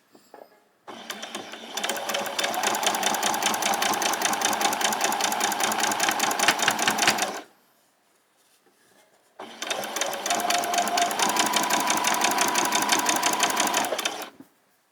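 A sewing machine stitches along the edge of a pair of summer shorts in two long, even runs of loud, fast mechanical whirring, separated by a short pause.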